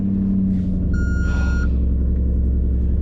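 A 2012 Maserati GranTurismo MC Edition rumbles loudly and steadily up close, with a brief electronic beep tone sounding partway through; no one speaks.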